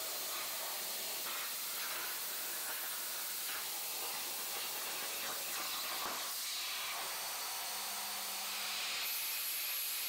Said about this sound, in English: Sammy's first project was cutting a bunch of bats on the plasma table